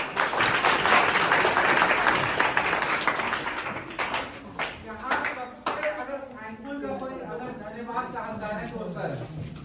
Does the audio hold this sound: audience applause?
yes